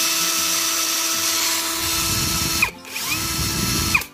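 A KINGPRO three-function brushless cordless hammer drill runs continuously with a steady high whine, changes speed partway through, briefly stops, then spins up again close to the listener.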